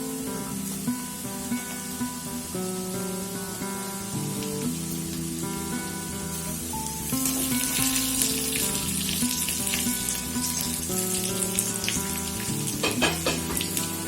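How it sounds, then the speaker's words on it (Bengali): Strips of onion, three kinds of capsicum and carrot fry in hot oil for a restaurant-style egg chicken chow mein, giving a steady loud sizzle that grows brighter and busier halfway through, with stirring clatter near the end. "খুব ভালোভাবে নাড়াচাড়া করে একটু ফ্রাই করে নেব।"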